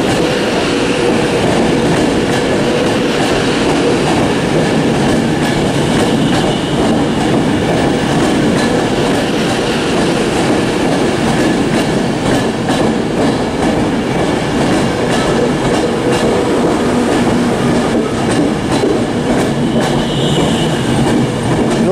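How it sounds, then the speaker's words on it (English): A Class 390 Pendolino passes through Carlisle station on the West Coast Main Line, a loud, continuous rumble and rush of rail noise with faint wheel clatter, sustained and close throughout. "New Street to Edinburgh, formed of a Pendolino."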